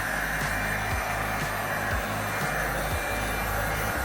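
A heat gun blowing over resin poured on beer can labels, some of them plastic, producing a loud, continuous close whooshing roar of hot air with a faint rhythmic pulsing underneath.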